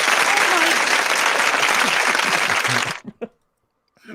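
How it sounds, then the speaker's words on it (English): Loud, dense applause from a crowd at a live show fills most of the stretch, then cuts off abruptly into a few sparse claps and near silence, with a faint sound returning at the end. "Round of applause for that ass shit."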